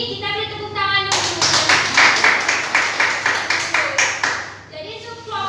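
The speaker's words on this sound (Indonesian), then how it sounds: "tadi kita beri tepuk tangan dulu" Classroom children clapping together in a burst of rapid, uneven hand claps lasting several seconds, with a child's and a teacher's voice speaking before and after.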